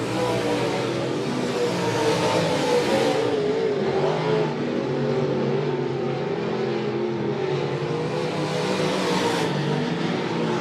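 USRA Modified race cars roaring around a speedway during an A feature, a loud continuous engine drone that swells and fades as cars pass, with crowd and track ambience and no talk.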